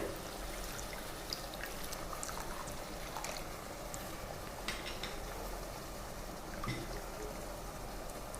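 Water pours steadily into a pot of tamarind prawn curry in a continuous, soft splashing stream, fairly quiet and close.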